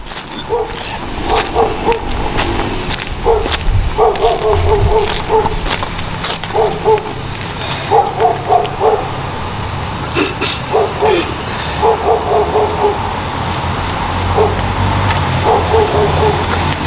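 A dog barks in repeated bursts at night in a forest, some distance off, each volley of several yaps separated by short pauses against a steady background hum.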